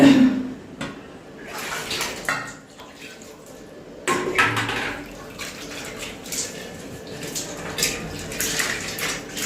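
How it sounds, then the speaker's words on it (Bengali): Plate being rinsed under running water at a home sink, with splashing and dish clatter coming in bursts, close by. "প্লেটটা একটু ধুয়ে নি"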